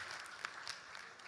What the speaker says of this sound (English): let's give a round of applause to Professor Han.